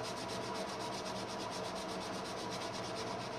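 Steady rubbing of fine-grade sandpaper smoothing scratches out of a part on a 1959 Chevy drag truck, a continuous close, even scratchy hiss with rapid back-and-forth strokes throughout, no talking.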